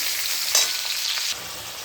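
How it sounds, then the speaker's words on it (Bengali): Onions sizzling in a pan, a steady close-up hiss of frying with a brief louder burst partway through, then dropping a little quieter toward the end; no voices. "একটু ভাজা ভাজা করে নিই"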